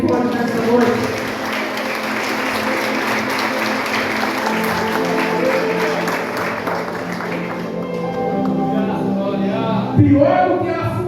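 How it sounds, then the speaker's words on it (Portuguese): A church congregation applauds loudly during a Sunday family worship service, the clapping continuous and mixed with voices, music and cheering, with a sharper burst near the end. "você pode aplaudir o Senhor bem forte nessa noite"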